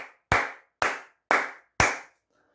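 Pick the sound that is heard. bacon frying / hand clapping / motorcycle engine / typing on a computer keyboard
hand clapping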